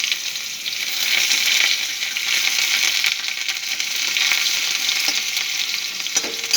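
Chopped onion sizzles in hot oil with cumin seeds in a pan, a steady broadband hiss that holds evenly for several seconds, with a few brief clicks of stirring near the end and no voices.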